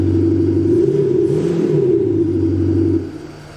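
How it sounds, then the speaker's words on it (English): A Mercedes G-Wagon G350 6x6 active exhaust rumbles in a deep, steady drone with a brief rise in revs, then the sound drops off sharply near the end. "there is even a magic button that changes the sound of the exhaust"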